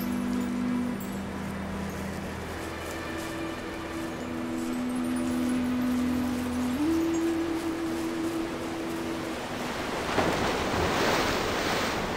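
Ocean waves washing onto a sea shore, a steady broad rush of surf with wind noise, and a swell building louder toward the end, with a faint low hum underneath.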